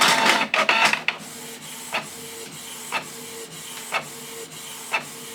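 A Canon G1010 inkjet printer whirs and clicks printing a brochure, with a busy start followed by regular mechanical clacks about once a second as the print head moves.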